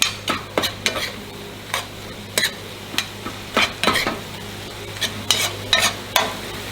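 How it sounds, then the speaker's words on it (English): Ground beef frying in a pan while being stirred, with repeated sharp scrapes and knocks of a utensil over a constant sizzle, close and clear with no talking. "as you see the ground beef starting to cook"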